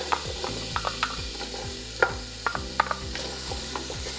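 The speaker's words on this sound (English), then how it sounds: "We're gonna get in some olive oil, get a little onion going." Onion cooking in olive oil in a pot over medium heat crackles with a constant sizzle, while a spoon stirs with a series of sharp clicks and scrapes spread across the sizzle.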